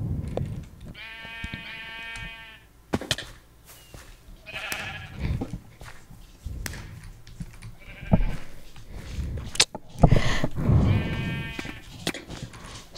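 Repeated sheep bleats, wavering and nasal, sound over a busy background of thumps and clatter, with a couple of louder bleats near the end.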